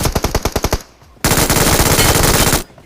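Automatic gunfire in the mobile shooter BGMI (Battlegrounds Mobile India): a sharp, rapid burst of about a dozen loud shots, a brief lull, then a long, sustained, dense volley that cuts off abruptly.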